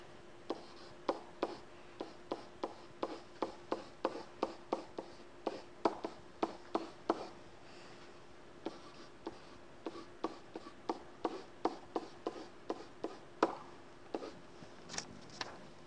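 Chalk or marker writing on a board during a lecture on probability of error, a long run of quick tapping strokes and short scratches in irregular bursts, close and clear with no talking.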